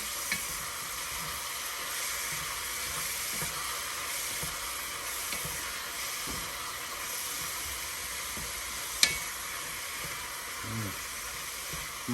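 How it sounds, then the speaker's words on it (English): Seasoned canned chili beans with kosher salt sizzle steadily in a pot while being stirred. The frying hiss is continuous, with faint scrapes and knocks under it. "Stir it around."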